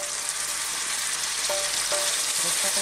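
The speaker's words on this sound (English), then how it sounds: "Now we will add the coconut milk" Chicken drumsticks cooking in a pan with lime leaves and ginger sizzle steadily as 500 ml of coconut milk goes in, a broadband frying hiss with a few brief tonal clinks near the end, no talking.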